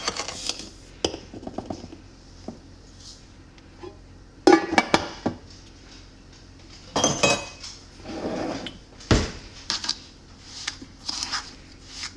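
Brown and white sugar being stirred together in a bowl, heard as intermittent scraping and clinking of a utensil against the bowl in short bursts separated by quiet pauses.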